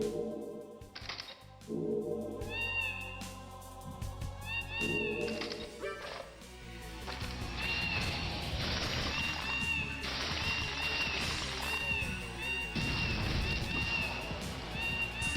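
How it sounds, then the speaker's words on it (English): Cat meowing repeatedly in the video game Baroque, rising and falling cries over game music and clattering effects, growing louder and more insistent toward the end. "Why is there a cat?"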